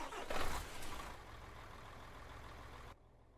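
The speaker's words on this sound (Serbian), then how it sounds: "Definitivno je SCS software ažurirao zvukove kamiona, zato što baš dobro zvuči ovaj Mercedes" Mercedes Actros truck engine starting up in Euro Truck Simulator 2: a loud initial rumble and crank surge settling into a steady, low idle drone that cuts off sharply near the end.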